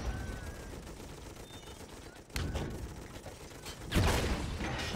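Gunfire in Toy Soldiers HD played on an Xbox Series S: sharp bursts of shooting crack out twice over a busy, mechanical game soundscape.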